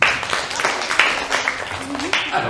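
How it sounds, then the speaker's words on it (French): Brief round of applause from an audience at a magic show for a girl volunteer, a short patter of claps mixed with voices. "On applaudit bien fort Lilou."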